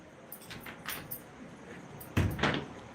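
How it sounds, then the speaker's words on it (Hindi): Keys jangle in a short metallic burst while a door is unlocked and opened, with several light clinks followed by a louder rattle and clunk near the end. Nobody speaks. "खोल दरवाजा।"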